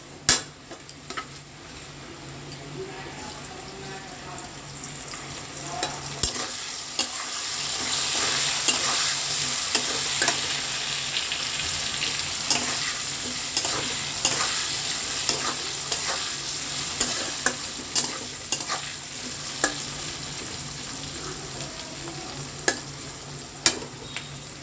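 Capsicum is stir-fried in a pan for sooji upma, a steady hiss of frying broken by sharp scrapes and taps of a spoon against the pan, close and continuous without speech.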